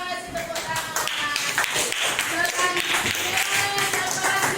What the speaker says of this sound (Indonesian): Iya, terima kasih tepuk tangan.